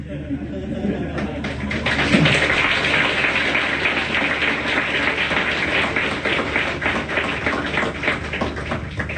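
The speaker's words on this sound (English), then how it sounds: "When I talk about money, your eyes lit up and you clap so loud" A lecture audience at a 1996 spiritual gathering in Cambodia applauds loudly, a dense, steady roar of many hands clapping that lasts the whole stretch, with crowd voices mixed in.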